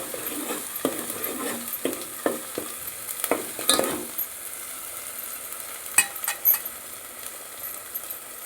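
Masala frying in oil in a pan until it turns red, a steady close sizzle broken by brisk stirring scrapes and clinks, with no talk.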